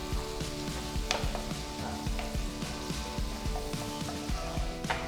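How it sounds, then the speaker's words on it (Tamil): Chopped onion fries in melted butter, giving a close, steady sizzle with bursts of crackle and the repeated scrape of stirring. "வெண்ணெய் உருகுனதும் ஒரு வெங்காயம் பொடியை நறுக்கினது போடுங்க."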